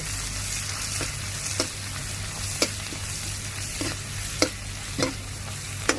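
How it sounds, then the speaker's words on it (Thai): Mala chili paste stir-fries in a hot wok, giving a steady loud sizzle with a spatula scraping and knocking the pan at irregular intervals, close up and with no talk. "พอหอมแล้วก็ใส่พริกหมาล่าลงไปเลย ผัดหอม"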